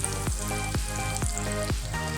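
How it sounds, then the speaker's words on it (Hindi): Chicken potato kababs fry over a low flame in hot oil, giving a steady sizzle with several soft rhythmic thumps as pieces shift in the pan, close and continuous with no talking. "इसी तरह सारे फ्राई कर लेंगे।"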